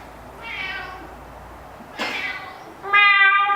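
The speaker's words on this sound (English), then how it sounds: "I'm sorry about the cat." A cat meows three times indoors, clear and fairly close, each cry rising and falling, with quiet room tone between them.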